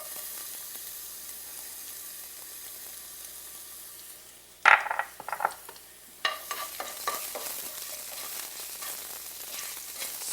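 Three cloves of sliced garlic hit a thin coat of cooking oil in a pan with a sudden loud sizzle after a quiet hiss. The sizzle then crackles and sputters on, with stirring clatters throughout.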